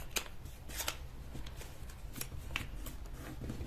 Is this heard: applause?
no